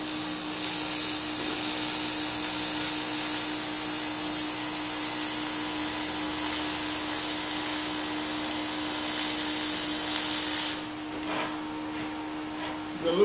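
Aluminum TIG welding rendered as a steady high-pitched electric buzz and hiss that holds loud and even for about ten seconds, then stops abruptly, leaving quieter background noise.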